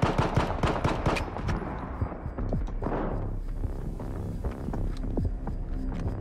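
STALKER 2: Heart of Chornobyl gunfire crackles in a close firefight, with rapid bursts of shots at the start, then scattered single and double reports over a low droning background.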